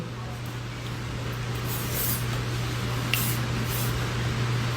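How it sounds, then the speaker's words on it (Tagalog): Makeup setting spray is misted onto a face, a continuous close, even hiss lasting the whole few seconds with no pauses. "Yeah, it's setting spray."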